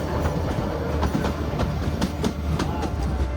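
A century-old narrow gauge train running from Bilimora to Waghai in India, its wheels giving a steady rumble with rhythmic clickety-clack over the rail joints, heard continuously and up close.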